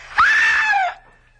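A woman lets out a single sustained high-pitched scream lasting under a second, loud and close, then it cuts off into quiet.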